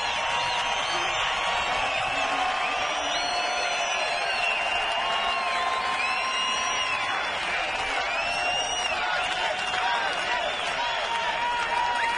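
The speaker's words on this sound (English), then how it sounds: "listen to this crowd. What a salute." A large crowd at a 2011 NASCAR race in Montreal roars and cheers continuously, chanting a hometown driver's name in rising swells with whistles, loud and sustained throughout.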